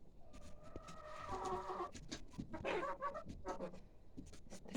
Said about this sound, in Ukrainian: Ось такі дівчата. Така молода курочка